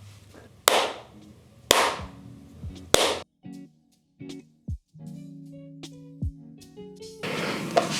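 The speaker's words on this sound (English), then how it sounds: "We're going to do the coveted, the lovely clap test." A single sharp hand clap is made close to a camera monitor for a video latency test, standing out as a crisp isolated crack, followed by quieter clatter and room noise.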